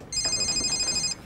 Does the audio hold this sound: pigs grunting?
no